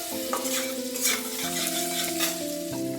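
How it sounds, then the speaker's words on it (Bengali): Fennel seeds sizzling in melted butter while being stirred: a close, steady frying hiss with scraping stir strokes, accompanied by faint sustained tones in the background. "একটু মৌরি দিলাম বাটারের মধ্যে।"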